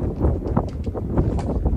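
Wind gusts buffet a microphone on an outdoor tennis court, producing a steady low rumble and blustery noise throughout, close and fairly loud.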